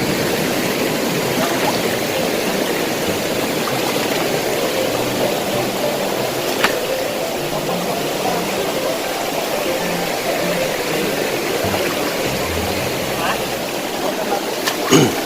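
A muddy river flows loudly and continuously, a dense close rushing roar of water with a few faint clicks and knocks, with no speech.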